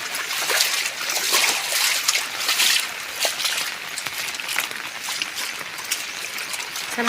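Steady rushing water with splashy bursts, like a stream running over rocks, continuous and fairly loud throughout with no voices.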